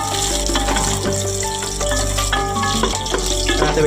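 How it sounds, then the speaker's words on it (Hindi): Water splashed into a cooking pot of rajma kidney bean curry, a loud close pour and sizzling splash over a low hum, continuous for several seconds. "अब इसके अंदर थोड़ा सा हम डालते हैं पानी का छट्टा लगाते हैं"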